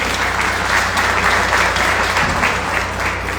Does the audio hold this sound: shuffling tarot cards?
no